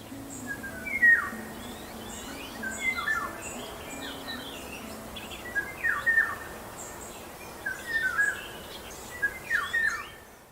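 Golden oriole calls and whistled song phrases ring out over a low, steady background hum, coming in short bursts throughout, in a garden.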